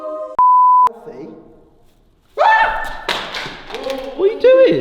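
A phone gives a single sharp electronic beep, then loud thumps and taps follow as people speak over the commotion.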